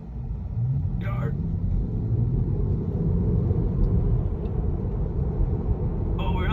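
A Tesla Model 3 cruises on an Australian road at highway speed, producing a steady low rumble of tyre and wind noise inside the cabin, constant and close throughout.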